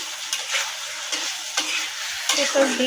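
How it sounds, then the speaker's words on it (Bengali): Food frying in a pan is stirred in slow passes, soft scraping strokes recurring about every second over a low background sizzle. "আস্তে নাড়া দিও কিছুই হবে না"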